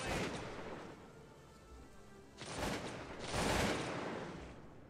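A musket volley from massed infantry in Cossacks 2 rolls out as a distant crackling burst, followed by two more rippling waves of scattered shots, fairly faint and blending into a rumbling spread of fire.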